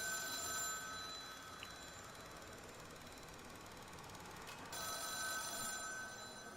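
A telephone rings faintly in two bursts of rapid bell trilling, one at the start and one near the end, separated by a quiet stretch of low background noise.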